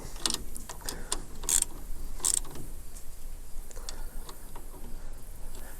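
Small bolts on a John Deere 336 baler's wiper plate being snugged up with a ratchet, giving faint, quick mechanical clicks and ticks in short bursts against a quiet workshop background.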